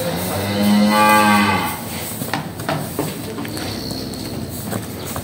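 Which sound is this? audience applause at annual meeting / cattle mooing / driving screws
cattle mooing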